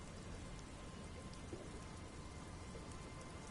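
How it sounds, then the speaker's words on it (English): Steady rain pours down in the detective game Disco Elysium, a constant dense hiss of falling water with low thunder-like rumble underneath and no voices. "She looks at the rain streaming down the yellow belly of the boat."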